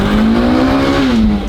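Car engine revving hard and climbing into VTEC, a loud sustained tone rising steadily then dropping slightly near the end, close and continuous with no talking.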